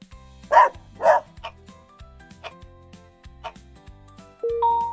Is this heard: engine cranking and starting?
no